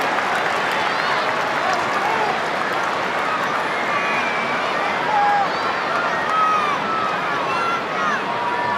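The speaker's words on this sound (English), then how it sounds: "A warm round of applause that you hear is for the first two Arsenal substitutes" Steady crowd applause rolls through a large football stadium during an Arsenal v Como match, broad and sustained, with a faint murmur of the crowd underneath.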